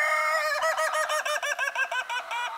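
Small bantam-sized chickens on a farm give a quick, close run of rhythmic clucks and chortles, a steady stuttering series of short calls lasting a couple of seconds with no talking over them.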